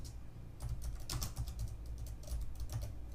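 Steady, irregular clatter of keystrokes on a computer keyboard while entering text during a coding session, close and continuous with no voices.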